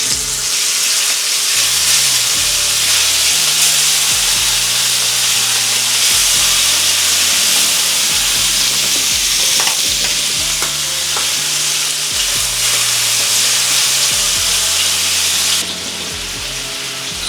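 Marinated fish and prawns frying in a pan, with loud continuous sizzling and crackling and the scrape of a utensil being worked through it, dropping to a quieter sizzle at the end.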